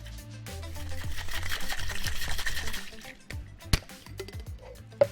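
A cocktail shaker gets a quick dry shake of whisky and egg without ice, a steady rattling slosh for about three seconds, followed by a few sharp knocks and clinks as it stops.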